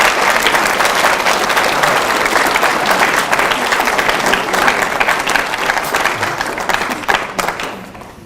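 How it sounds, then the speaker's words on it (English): Sustained applause from a sizeable congregation at a bar mitzvah service, steady and dense for several seconds before thinning slightly at the end. "It's okay, you can clap for him."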